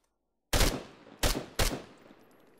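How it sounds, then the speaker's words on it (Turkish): Three sharp, loud rifle shots from an unsuppressed 5.56 weapon in the Arma 3 video game ring out, unevenly spaced after a short silence, each followed by a decaying echo. "Sıkıyorum komutanım."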